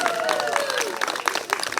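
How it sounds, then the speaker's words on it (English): A library audience of kids and adults applauds in a brief, lively burst of dense clapping, with some excited voices and whoops mixed in. "please let's give a round of applause to these wonderful kids that are here in the audience"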